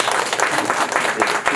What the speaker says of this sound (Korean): 이명세 감독님께도 박수 한번 부탁드리겠습니다.